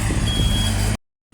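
A bin truck reversing close by, with a loud, steady engine rumble and reversing tones that cut off abruptly, followed by a brief silence and a short return of the noise; no talking.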